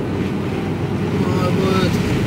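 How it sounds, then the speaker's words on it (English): Heavy rain pelts the cab of a Mercedes Actros HGV truck in the UK, a steady dense wash of noise that fills the whole clip without a break. "Oh, look at the rain."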